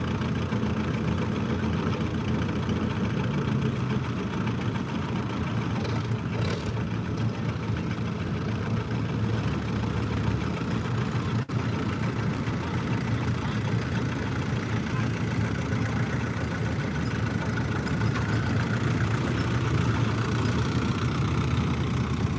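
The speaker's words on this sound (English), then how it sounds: "This is a pretty tractor that's going to be coming down." An antique pulling tractor engine idles at an outdoor antique tractor pull, giving a steady, low, rumbling drone that holds at an even level for the whole stretch, with faint background noise from the grounds.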